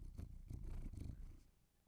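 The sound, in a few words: cat purring near the microphones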